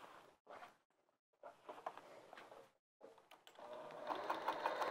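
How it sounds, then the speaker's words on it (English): A sewing machine runs in a few quick bursts while stitching a folded-under edge on a bag, with short pauses between the runs and a longer, steadier run at the end. "I'm just going to machine sew this very quickly."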